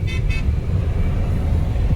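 A vehicle horn honks on a narrow mountain road with blind curves, two short loud toots close by over heavy rumbling engine and road noise.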